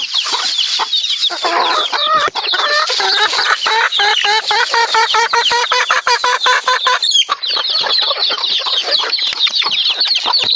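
Several chickens cluck and chatter busily up close, a dense continuous flock of squawks and clucks with no talking.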